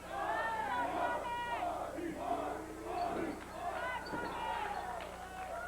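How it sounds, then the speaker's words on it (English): A wrestling crowd at a 1989 Stampede Wrestling show cheers and shouts for a wrestler, with rising and falling whoops and yells that sit at a moderate distance. "Goldie Rogers has got a cheering section out there"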